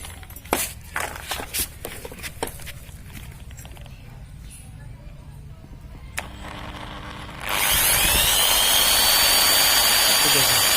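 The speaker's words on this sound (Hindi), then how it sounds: "ये मेरे पास ड्रिल मशीन है। अब इसको हम चालू करेंगे।" An electric drill machine starts up partway through, switching from faint handling clicks and knocks to a loud, steady high-pitched whine that holds to the end, while cleaning debris out of a Hero Honda Passion Plus motorcycle engine.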